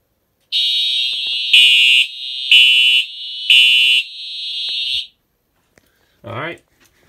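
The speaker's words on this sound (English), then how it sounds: "we're actually going to take care of the smoke detector over here." Loud, piercing electronic tone from a smoke detector during a fire alarm system test, sounding about four seconds with pulsing bursts layered over it, then cutting off; a brief voice follows after a pause.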